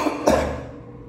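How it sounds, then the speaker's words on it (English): One short, harsh cough from a smoker, close and loud, fading quickly into a quiet room. "I've been coughing a lot from smoking."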